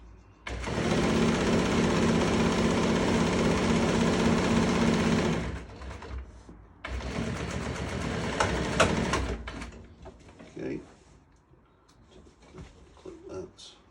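An industrial sewing machine stitches bed upholstery fabric for a rock-and-roll sofa bed, running in a loud, steady whirr for several seconds, stopping, then sewing again in a shorter burst before quieter handling sounds.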